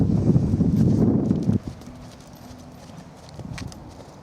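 Horse hooves clip-clop in a steady rhythm during a rising trot under saddle, loud and close for the first second and a half, then fading to faint, distant hoofbeats.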